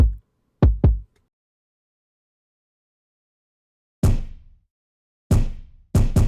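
A kick drum with a low-end knock thumps out about seven dry, isolated hits, a quick double early on, then a pause, then scattered strikes close together near the end, with no other sound.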